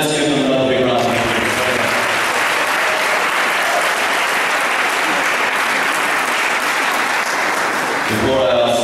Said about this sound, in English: Let's give them another big round of applause.